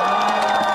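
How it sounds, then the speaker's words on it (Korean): Crowd cheering and applauding at a KBO baseball game, Nexen versus Hanwha, after a home run, a dense, continuous roar of many voices with scattered whoops, loud and steady throughout the short burst. "박수 한번"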